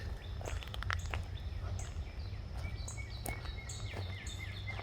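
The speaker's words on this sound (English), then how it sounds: "Hear the birds." Faint, scattered bird chirps sound over a low, steady background hum outdoors.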